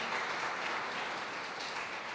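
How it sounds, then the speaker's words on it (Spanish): A church congregation claps together in a steady, dense wash of applause that continues without a break through the short stretch. "Denle un aplauso al Señor."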